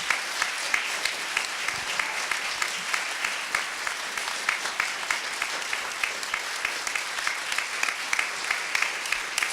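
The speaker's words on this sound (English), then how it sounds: "I hope we can do that with a big round of applause and thanks for our panelists" A forum audience on protecting national marine sanctuaries claps for the panelists, a moderately faint, continuous round of applause with distinct individual claps throughout.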